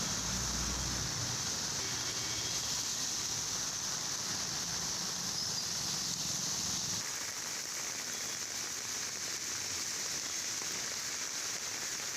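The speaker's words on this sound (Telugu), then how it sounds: "అబిడ్స్ నాంపల్లి బషీర్బాగ్ బేగం బజార్ తదితర ప్రాంతాల్లో వర్షం పడుతోంది" Heavy rain falls across central Hyderabad neighbourhoods, a steady dense hiss with no break, heard alone at moderate level with a deeper low rumble in the first seven seconds.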